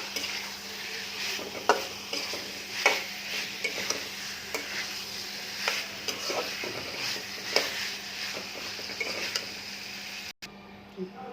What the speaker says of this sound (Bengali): আলু দিয়ে দিলাম। একটু কিছুক্ষণ কষাবো।